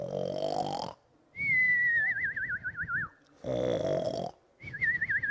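A voice imitates a sleeping alligator snoring, with two loud rasping snore pulses alternating with wavering whistled exhales, in a slow, regular rhythm and close up.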